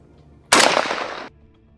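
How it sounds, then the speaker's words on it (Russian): A single Kalashnikov rifle shot fired at a PFM-1 "Lepestok" antipersonnel landmine during demining, a loud sudden blast with a roughly three-quarter-second rough burst that cuts off sharply into quiet. "Автомат Калашникова, прицеливание и выстрел."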